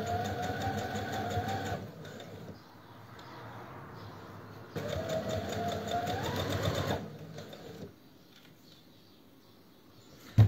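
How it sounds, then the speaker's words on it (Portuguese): A sewing machine stitches fabric lining at presser-foot width, running in two steady whirring bursts separated by quiet pauses while the fabric is adjusted. "Então, eu vou costurar à mesma ao valor do calcador, tá? Eu vou parando que é para ajustar os tecidos"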